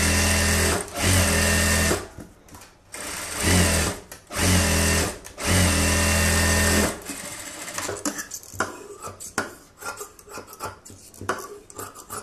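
A tailoring sewing machine stitches a blouse seam in several loud, sustained whirring runs with short pauses, then gives way to quieter rustling and handling of the fabric.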